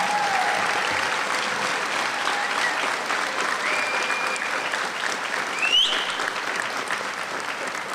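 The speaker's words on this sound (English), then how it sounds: "Let's give another round of applause for the Quinault Singers." Audience in a high school gym at a 2025 graduation ceremony applauding the Quinault Singers, sustained loud clapping from a large crowd echoing in the hall, with scattered whoops and a sharp whistle midway.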